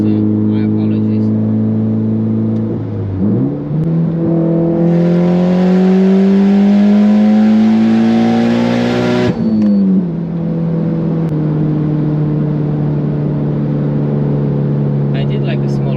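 A Mitsubishi Lancer Evo X on an E85 tune with an open dump and titanium exhaust climbs through a loud, close rev, holds a rising howl, then drops back to a steady idle-like drone.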